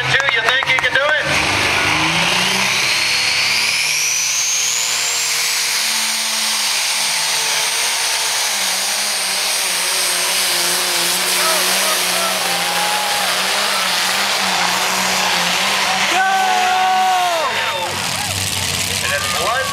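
A John Deere tractor's engine roars loud and sustained at a tractor pull, its pitch climbing and straining under load, while an announcer's amplified voice talks over it.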